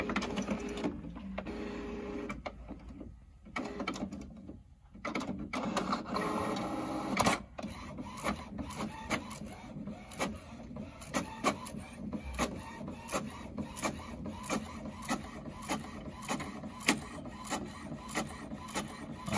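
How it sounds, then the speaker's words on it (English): An HP OfficeJet Pro 6978 inkjet printer runs a page, with mechanical whirring, clicks and a shuttling print head in irregular bursts and pauses, close by and moderately quiet, with no voices. "Can you please go to the printer and print the page?"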